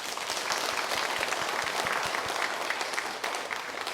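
A church congregation at a Sunday worship service applauds together, a loud, sustained wash of many hands clapping that fills the room and barely eases near the end.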